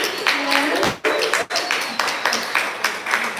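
An audience at a poetry reading event claps, and the applause rises and falls in a few short bursts with brief dips between them. A voice talks over part of it.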